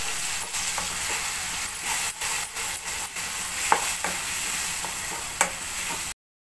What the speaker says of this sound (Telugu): సిమ్లో ఉంచి 2-3 మినిట్స్ ఫ్రై చేసుకోవాలి